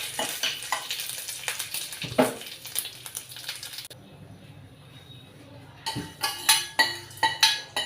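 Mustard seeds, red chillies and curry leaves sizzling in hot oil for a ginger chutney tempering, close crackling hiss with a metal spoon clinking and stirring against the pan, a brief quieter stretch midway.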